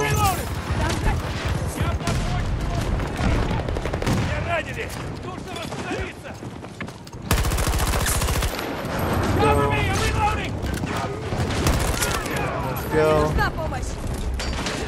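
Sustained gunfire from the Battlefield 2042 video game, with repeated shots and automatic bursts under game voices and chatter, loud and continuous throughout.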